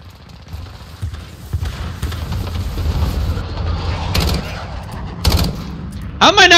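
Gunfire in a hardcore team deathmatch of Call of Duty Modern Warfare on the Crash map: bursts of shots, some close and loud, come over a steady battle din, with a few sharp cracks near the end.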